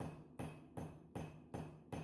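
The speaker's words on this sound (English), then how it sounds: "I'm using the pointed side of my hammer." A straight peen hammer strikes a railroad spike on an anvil while forging a throwing knife, six sharp metallic blows at an even rhythm of about two per second, close and clear with no talk.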